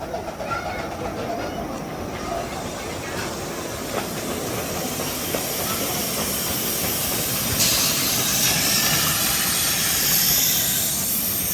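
A steam locomotive on the Eastleigh Lakeside Railway hisses steadily at the station. The broad, continuous rush of steam sits over a low rumble and grows slightly louder toward the end.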